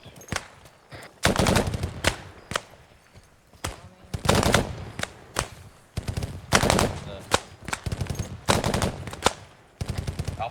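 Rapid gunfire rings out during military training in several loud, close bursts of quick shots separated by short pauses, with faint voices now and then.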